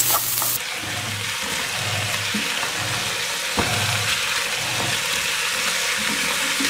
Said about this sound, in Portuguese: eu já tô refogando o arroz aqui rapidinho